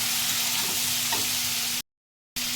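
Chili paste frying in a pan while being stirred, a loud, steady sizzle close by with a low hum underneath, broken by a brief silent gap before resuming.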